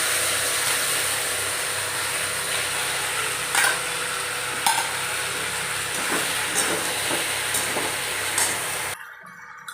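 Pasta frying in a hot wok, a steady close sizzle and hiss broken by a few scraping stirs, ending abruptly with no talking.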